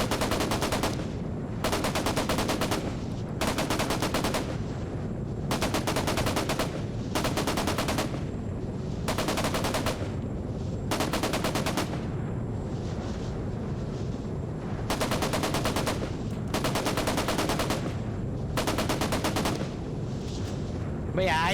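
Bursts of automatic gunfire from a desert technical warfare video game rattle out in repeated loud volleys separated by short pauses, dense and close, with a steady background hum between bursts.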